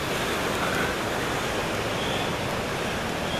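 Jake's Creek on a hiking trail near Avent Cabin gives a steady, close rush of flowing water, a dense unbroken wash of sound with no voices over it.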